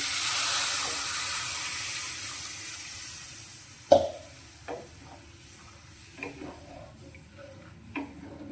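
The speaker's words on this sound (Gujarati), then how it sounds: "અત્યારે મેં પાંચસો એમએલ જેટલું મલાઈ સાથે ગરમ કરીને ઠંડુ કરેલું દૂધ લીધું છે તે અંદર રેડી દઈશું" Cold, creamy milk poured into roasted flour in a hot pan for Khambhat halwasan, sizzling and hissing strongly at first, then fading to soft bubbling with a few close clicks and stirring knocks.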